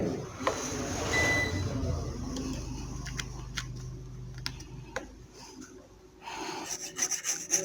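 A RAM stick is rubbed clean with petrol, giving close, steady scraping and rasping strokes broken by light ticks and taps, with no voices.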